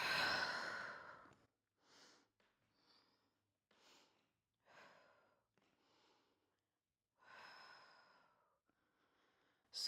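Deep breathing during a glute workout, a strong exhale at the start followed by a series of close, softer breaths and sighs separated by short silences, with no speech.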